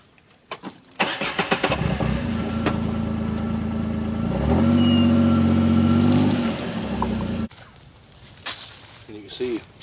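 A Kawasaki Mule utility vehicle idles and then pulls forward, its engine note rising steadily for a few seconds before cutting off, with some handling noise and a brief voice after it stops.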